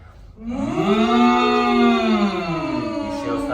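A voice imitates an aggressive cow with one long, forceful, drawn-out moo, rising at the start and held for a few seconds before trailing off.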